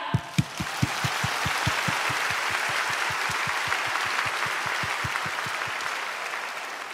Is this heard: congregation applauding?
yes